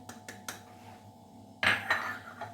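Eggs and sugar stirred in a bowl for a génoise sponge, giving a few sharp clinks and scrapes of utensil against the bowl, then a louder burst of clattering near the end.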